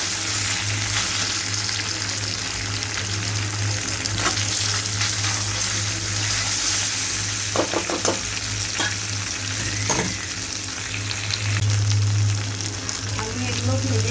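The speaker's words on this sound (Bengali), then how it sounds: "আমি এগুলো ভেজে নিয়েছি, একটু হালকা গা ভাজা দিয়ে দিয়েছি" Soya chunks fry in oil in a wok with a steady, close sizzle and crackle, broken by occasional scrapes and stirring clatter; the frying swells briefly louder near the end.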